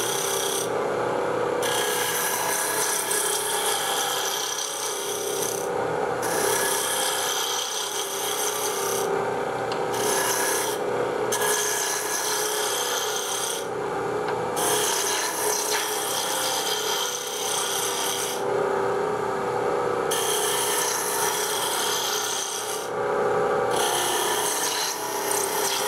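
A woodturning tool cuts an icicle ornament on a spinning lathe with a bevel-anchored cut, giving a continuous close rasping scrape broken by short regular gaps as the tool lifts and reengages.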